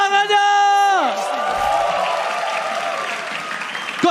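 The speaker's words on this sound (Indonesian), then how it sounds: "MPL Arena, mana tepuk tangannya?" Esports arena crowd at a mobile-game league match breaks into loud, sustained applause and cheering after an announcer's voice fades, filling the hall for several seconds.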